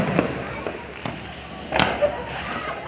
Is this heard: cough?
no